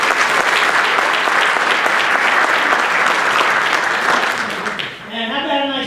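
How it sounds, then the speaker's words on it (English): Audience applause for all-county high school athletes at a school board meeting, a dense steady roar of clapping that fades toward the end as a voice begins speaking. "And how about a nice round of applause for our all county athletes."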